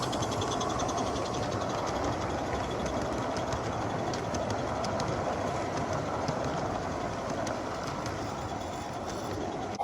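A radio-controlled live steam model of Sandy River and Rangeley Lakes locomotive number 24 by Roundhouse Engineering hauls a heavy train, giving a steady broadband rushing hiss with faint rhythmic clicking, continuous and fairly close.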